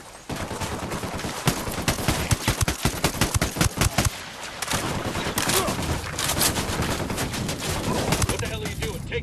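Dense rapid gunfire from the Ghost Recon Wildlands video game, bursts of automatic fire and overlapping shots crackling loudly and continuously for several seconds, with a brief lull before the barrage resumes.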